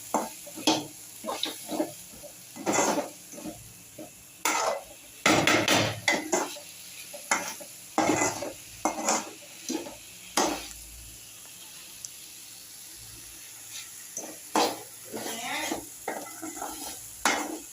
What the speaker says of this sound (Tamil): இது எல்லாத்தையுமே நல்லா கிண்டிக்கிறேன்.